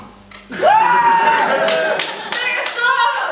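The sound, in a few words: audience clapping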